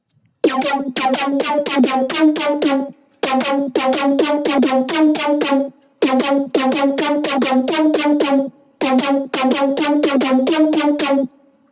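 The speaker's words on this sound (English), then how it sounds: "Without the delay and the reverb," Dry synth lead recreating a track's lead, playing four repeated bursts of rapid, stuttering staccato notes with bright buzzy harmonics, each phrase about two and a half seconds long with short gaps between, no delay or reverb tail.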